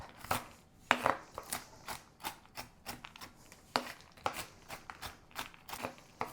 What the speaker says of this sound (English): we're going to take, I'd say about a cup of pecans, and we're just going to start chopping them up